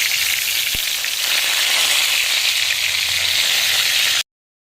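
Fish fries in hot oil until browned, giving a loud, even, crackling sizzle that holds steady for about four seconds and then cuts off abruptly.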